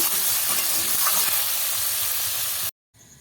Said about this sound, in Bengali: ভালো করে ভেজে ভেজে ভাজা করে নেব